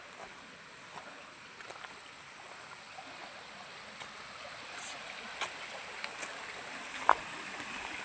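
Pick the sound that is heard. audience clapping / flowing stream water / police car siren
flowing stream water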